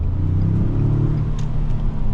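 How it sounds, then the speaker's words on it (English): A 2024 Ford Expedition Max's turbocharged engine rumbles steadily at close range, a deep continuous drone with no talking. "the turbo still sounds good"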